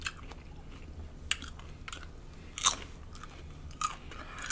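Crunchy chewing of deep fried king crab legs during a seafood boil meal, with a few sharp bites and crackles over a soft, steady background, close and moderately quiet.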